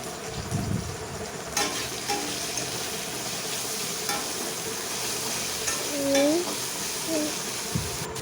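Paneer sizzles steadily with salt in a hot pan while a utensil stirs and scrapes now and then, the frying hiss continuous throughout.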